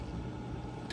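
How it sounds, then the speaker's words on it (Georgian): A car engine idles close by on a mountain outing, a steady low rumble with no change in pitch, heard alone and fairly quiet. "გესმის ახლა წინ რაღაცა მანქანა გიდგას თუ რა არის?"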